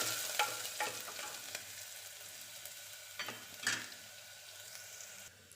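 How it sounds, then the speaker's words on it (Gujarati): Curry leaves, garlic and chillies sautéing in a pan, a soft steady sizzle with a few scraping stirs and brief spatters, close and fairly quiet with no talk. "લીમડો, લસણ અને મરચાં. બધી વસ્તુને સાંતળી લઈશું."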